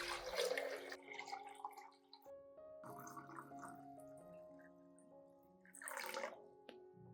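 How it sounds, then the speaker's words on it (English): Water splashes and gurgles as one liter of room-temperature water is poured into a glass container in bursts, with resonant ringing tones between the pours. "prepare a clean glass container, as shown in the video, and pour in 1 liter of clean water"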